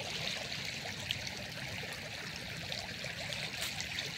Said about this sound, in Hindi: ये पानी बहुत तेज गिर रहा है। ये देखिए दोस्तों पानी जा रहा बहुत तेज,